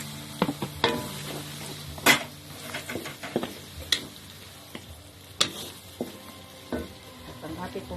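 Ingredients for chilli oil, tomato among them, are stirred together in a pan, giving scattered scraping and clinking taps over a low, steady sizzle.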